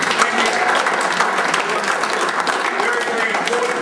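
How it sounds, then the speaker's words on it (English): Sustained, even applause from an audience at an evening public meeting on district council issues, dense clapping at steady loudness throughout. "I really want everyone to give a good round of applause to all you people for coming out tonight"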